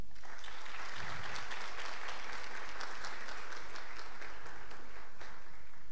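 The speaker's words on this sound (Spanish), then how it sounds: "pido un fuerte aplauso" A university forum audience gives sustained applause, a dense and even clatter of clapping hands that holds steady throughout the clip.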